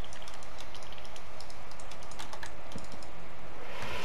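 Computer keyboard typing at a desk during a Minecraft speedrun, with a rapid, irregular patter of close key clicks running throughout and no talk over it.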